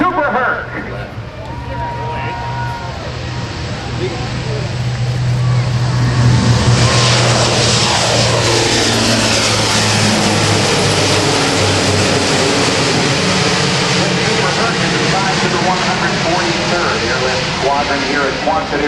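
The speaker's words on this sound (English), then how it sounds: "This is the Rhode Island Air National Guard C-130J Super Herc." A Rhode Island Air National Guard C-130J-30 Super Hercules at an airshow begins its takeoff roll, a four-propeller turboprop drone swelling into a loud, sustained roar, with an announcer talking over it.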